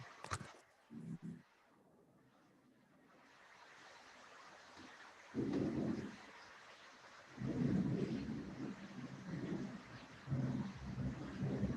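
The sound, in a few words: heavy rain with thunder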